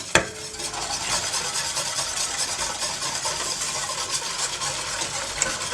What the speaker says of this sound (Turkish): burada karıştırmış olduğum un, şeker ve kakaoyu süte karıştırarak ilave ediyorum